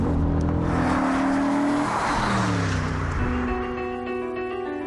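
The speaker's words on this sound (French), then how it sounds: "c'est le son démoniaque qui s'échappe de son double échappement" An Audi RS4's 4.2-litre V8 growls through its dual exhaust, climbing through revs in a couple of rising sweeps before easing off, close and loud with no talk.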